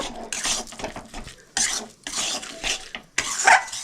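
Coconut and jaggery filling is stirred in a wok for patishapta pitha, making close, repeated bursts of scraping and clattering in an uneven rhythm, with no talk.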